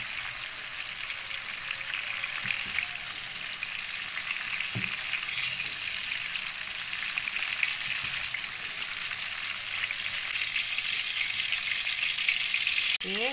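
Garlic and chilli fry in a pan with a steady bright sizzle and crackle, occasional soft stirring knocks, quiet and close with no talk.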